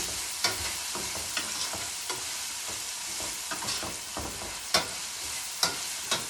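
Food stir-fries in olive oil with a steady, loud sizzle close by, broken by occasional clacks and scrapes of stirring.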